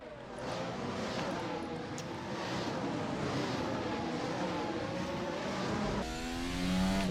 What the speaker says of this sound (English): I'm just gonna leave my car on the inside here, and we'll try and match Ocon in a braking race